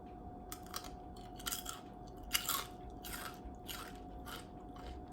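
Crispy chicken skin chips crunch in close, repeated bites, each a sharp crackling burst over a steady low background hum, with no talk.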